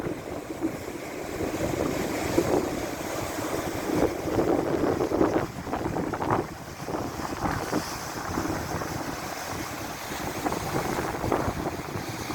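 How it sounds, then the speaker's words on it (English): Ocean waves wash against the San Diego coastline in a steady, rushing roar, with wind buffeting the microphone throughout. "You really see the waves out there coming in against the coastline."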